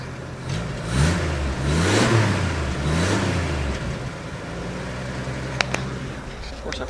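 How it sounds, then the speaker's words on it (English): Engine of a 1941 Chevy Master Deluxe Coupe running, heard with the door open on a chilly day, with several revving swells in the first few seconds and then a settled idle plus a couple of faint clicks. "Hear the engine."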